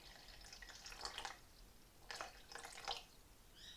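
Water poured into a container on a kitchen scale while measuring for a metallic-painted candle jar made with eco casting compound; three short, faint splashing bursts with quiet gaps between them.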